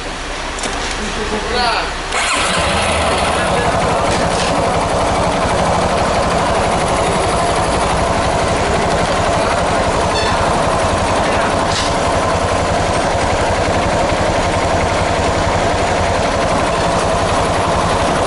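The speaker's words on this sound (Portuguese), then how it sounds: "Vou desligar a chave de contato e ligar de novo." A Yamaha Fazer 250 motorcycle with a stalling fault is restarted, then the engine runs steadily with a loud, close, busy mechanical drone that holds for the rest of the stretch.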